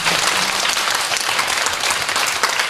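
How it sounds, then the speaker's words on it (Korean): A church congregation applauds during a Korean worship service, a thick, continuous wash of many hands clapping at close range without a break. "우리 하나님 한번 감사의 박수 보내드립니다."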